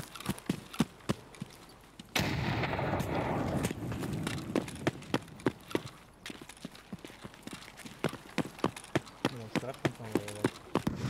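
A thrown grenade goes off in Escape from Tarkov as a sudden heavy boom that rumbles for over a second, set against a steady run of quick thudding in-game footsteps before and after.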